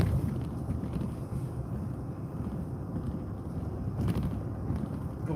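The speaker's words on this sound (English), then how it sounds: "It's windy over here." Outdoor wind buffeting a microphone during a live street patrol, a steady low rumbling roar with gusty swells throughout, close and fairly loud with no talking.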